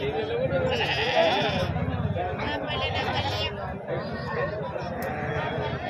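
Goats bleat repeatedly at an outdoor goat market amid a crowd's chatter and murmuring voices, the calls overlapping the steady hubbub of the busy gathering.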